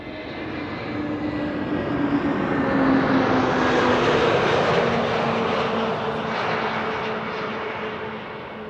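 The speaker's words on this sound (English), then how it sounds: "Iberia A320neo arriving from Madrid, in the meantime landing here behind me." An Iberia Airbus A320neo jet lands at Amsterdam Schiphol on arrival from Madrid, its engines giving a loud, continuous roar that swells and slowly fades without any voices.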